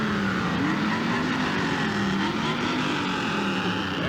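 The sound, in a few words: Sports Car Club of America cars' engines in parade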